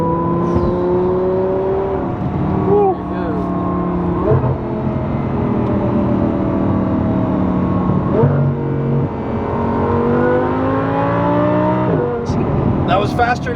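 A ten-year-old two-owner car accelerates hard, its engine note climbing through several rising gear pulls with brief shift breaks, loud and close from inside the cabin with voices underneath.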